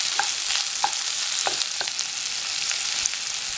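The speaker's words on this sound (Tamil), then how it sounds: "பச்சை மிளகா, இது ரெண்டையும் சேர்த்து கொஞ்ச நேரம் நல்லா வதக்கிக்கலாம்" Green chilies and large onion sautéing in a pan for a Tamil-style dal, a steady broad sizzle with a few brief spoon scrapes and clicks, close and even throughout.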